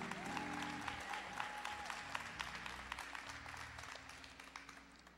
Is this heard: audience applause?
yes